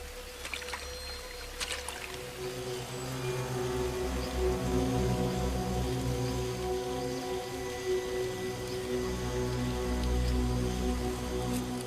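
Steady rain falling through a humid tropical forest, a dense continuous wash of drops with a low rumbling undertone, close and even throughout with no voices.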